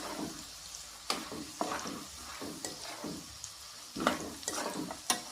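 Legumes fry in hot oil for churumuri with a steady sizzle, broken by repeated scraping and stirring strokes at an uneven rhythm, close and moderately loud.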